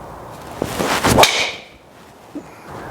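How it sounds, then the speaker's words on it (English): A Ping G425 Max driver with a 9° head strikes a golf ball, giving a loud, sharp crack with a bright ringing tail on an outdoor range, followed by faint background noise. "First thing that jumps out is the sound. The Ping is pretty loud."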